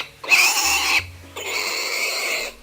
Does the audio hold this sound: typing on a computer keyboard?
no